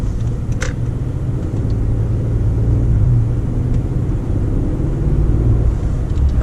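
A Mercedes-Benz S550 pulls onto the road, heard from inside the cabin as a steady low rumble of road and engine noise, continuous and fairly loud throughout, with no voices.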